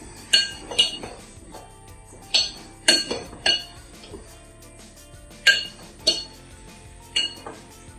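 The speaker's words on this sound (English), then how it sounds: "And then just give it a mix it all together." A spoon stirs oats and flour flapjack batter in a bowl, giving about a dozen sharp, irregular clinks against the bowl over a quiet background, with no voices.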